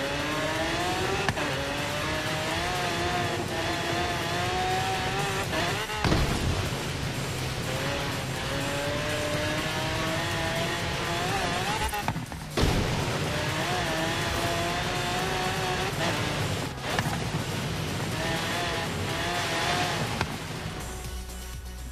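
Forza Horizon 3 race with a Nissan: engines roar and rev continuously through repeated gear shifts, with brief tire squeals and loud, close racing-game car sound throughout, no talk.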